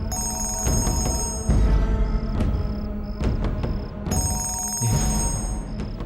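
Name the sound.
telephone ringing in an empty house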